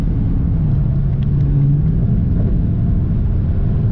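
Low steady rumble of a Dodge Charger R/T with a 5.7 Hemi V8, idling close by at an even, loud level with no talk over it.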